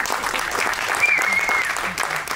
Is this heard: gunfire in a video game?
no